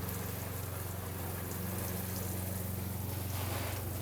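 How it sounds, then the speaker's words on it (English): Water pours steadily over seed trays laid side by side on level ground outdoors, a continuous close splashing and trickling rush with no voices. "here I gave all these about 5 litres of water first,"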